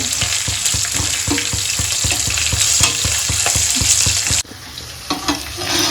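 Spices and curry leaves sautéing in a pan for quick jeera rice, with a loud, steady sizzle and rhythmic spatula scraping that suddenly drops to quieter frying with a few clinks.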